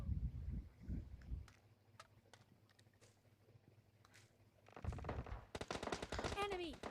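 Gunfire in the mobile battle royale game PUBG Mobile Lite, several sharp rapid shot bursts near the start and end with quieter game sounds between.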